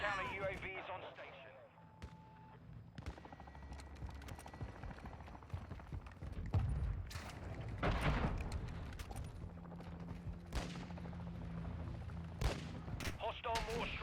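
Mortar strike and scattered gunfire in the Modern Warfare 2 video game, heard as repeated booming impacts and sharp shots mixed through a dense battlefield wash, with a radio-style announcer voice talking over parts of it.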